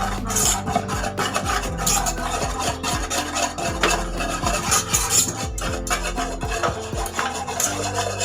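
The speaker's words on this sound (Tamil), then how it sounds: "நல்லா கட்டி வராமல் மிக்ஸ் பண்ணிக்கலாம்." Cake batter of powdered sugar stirred by hand in a bowl to work out the lumps, a steady close scraping and rubbing of a spoon against the bowl with no speech.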